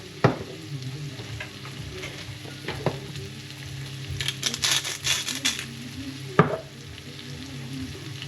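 Food being stirred and sautéed in a motorhome pan with Italian-style seasoning, salt and pepper, giving a steady soft sizzle broken by scraping stirs and a few sharp utensil clinks against the pan.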